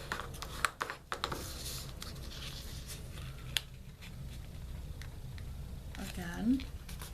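Paper is creased and folded by hand to make a mini envelope card, giving close, crisp rustles and soft taps with a few sharper crinkles, while a voice talks quietly at times.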